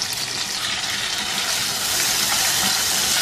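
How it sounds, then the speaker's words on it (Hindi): Mutton with a spoonful of yogurt sizzles hard in a hot karahi, a loud, dense, steady hiss with no break and nobody talking over it. "अब इसमें शामिल कर देना है 2 खाने के चम्मच दही के।"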